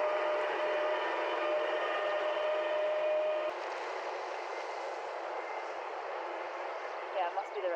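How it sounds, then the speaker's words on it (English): Sightseeing train rolling through Luxembourg city, a continuous hissing and rumbling pass heard nearby, with a faint tonal whine in the first few seconds and a steady wash of noise after. "This sightseeing train seemed to follow us around the city."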